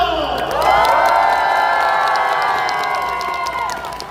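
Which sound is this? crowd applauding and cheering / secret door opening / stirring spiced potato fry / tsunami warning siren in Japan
crowd applauding and cheering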